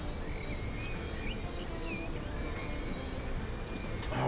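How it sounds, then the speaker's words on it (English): Train brakes squealing in the Transport Fever video game, a thin high-pitched screech with short wavering squeals over a constant rumbling rail noise. "it's caught the brake noise"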